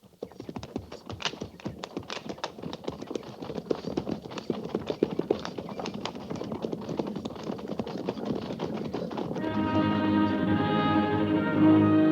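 Hooves of horses trotting on an old frontier trail, a steady rapid clip-clop rhythm that runs throughout, close by, with a sustained droning tone building underneath toward the end.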